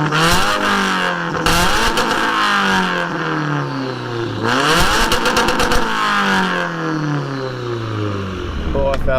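A modified 2017 Subaru WRX with a tuned blow-off/bypass valve accelerates hard through several gears, its engine pitch rising in repeated sweeps with sharp hissing valve releases at each shift, loud and close.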